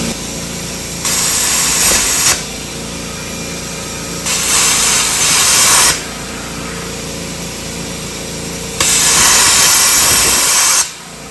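Rivet heads are cut away from a Dodge D100 truck frame in three loud hissing bursts of a couple of seconds each, with a steady lower hum running between them.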